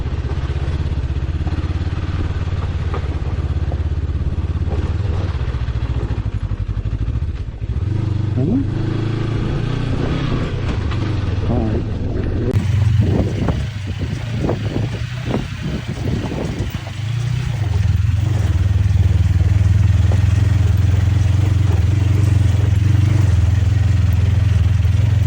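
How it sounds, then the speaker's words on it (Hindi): A motorcycle engine labors and revs loudly climbing a steep mountain track, rising in pitch as it accelerates, with clattering and a steady throaty drone close by. "आप बाइक की आवाज़ और उसके एक्सीलेटर एकदम अंदाज़ा लगा सकते हैं"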